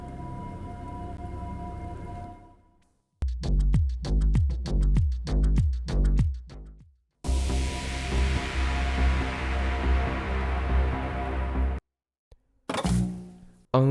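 Music tracks in a Scratch rhythm video game switching abruptly, a loud electronic beat with pulsing bass hits cutting off into sustained noisy synth, then brief silence and another track resuming.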